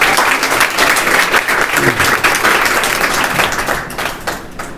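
Loud, full applause from the audience at an award ceremony honouring NEET 2024 selected students in Kawardha, many hands clapping in a steady dense roar that eases off near the end.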